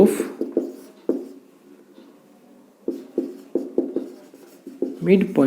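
Marker or chalk strokes on a board during a maths lesson, short scratchy bursts in uneven groups with pauses between, close by; a voice speaks around the strokes.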